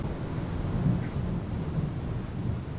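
Low rumbling thunder rolls through a quiet indoor room, a steady deep murmur with slight swells that lingers at moderate volume, no voices present.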